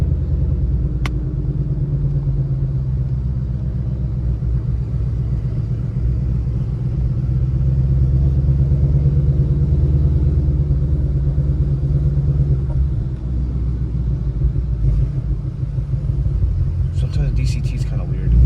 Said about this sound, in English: Hopefully you guys can hear how crazy the car sounds. This is with the valves open and track.